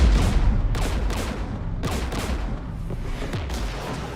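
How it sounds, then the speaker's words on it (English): Dense gunfire in the Mass Effect video game, rapid bursts of shots stacked over a constant loud rumble, several sharp volleys cutting through, with no pauses. "We're taking fire."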